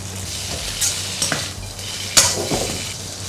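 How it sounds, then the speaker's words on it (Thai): Rice vermicelli stir-fried with water mimosa in a pan, gently toasted over low heat, gives a steady soft sizzle with scraping stirs and a few sharp utensil clinks against the pan, alone without talk. "เราคั่วอย่างนี้ไปอ่อนๆไปก่อน ให้เขาหอม ๆ หน่อย"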